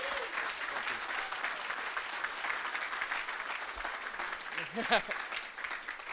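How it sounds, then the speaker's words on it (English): A big round of applause from the audience at a 2013 event honoring those who have served, with dense, sustained clapping throughout and a voice briefly audible in the middle. "I want a big round of applause for Dan Feehan and what he did tonight"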